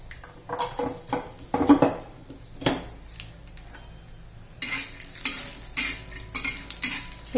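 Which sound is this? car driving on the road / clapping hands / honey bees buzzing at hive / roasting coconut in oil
roasting coconut in oil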